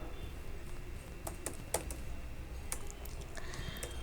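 Quiet clicking of a computer keyboard while code is typed for a React front end, short irregular bursts of keystrokes over a low room hum.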